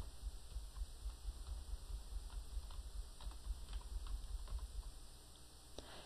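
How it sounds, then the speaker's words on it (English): Letters are typed on a computer keyboard in quick, uneven bursts of soft key clicks, close but quiet over a faint background hum, with no voices. "I'm going to start typing some different letters."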